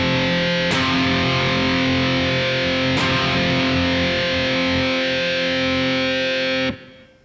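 Heavily distorted electric guitar chord in an atmospheric black metal style, using the same shape moved a whole step higher. It is struck twice and rings out sustained and loud, then cuts off abruptly near the end.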